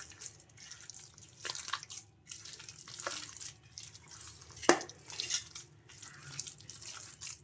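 Water is added to pakoda batter and stirred in, heard as faint, close wet drips and sloppy mixing sounds with irregular soft splats and one sharper drip.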